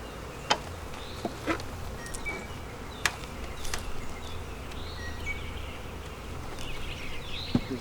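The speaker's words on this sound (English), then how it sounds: "Leaving these bees in here with their queen." Honey bees hum at a hive being split, a soft continuous buzz with individual insects darting close past now and then, plus a few light knocks and clicks of hive equipment, no talking.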